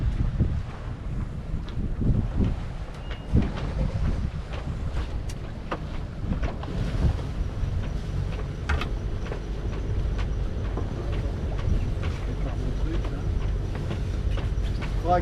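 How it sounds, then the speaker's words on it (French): A sailboat's engine starts and keeps running at sea, a low steady rumble under wind buffeting the microphone, with occasional knocks and clatter on deck and no talk. "Alors je vais mettre le moteur en route."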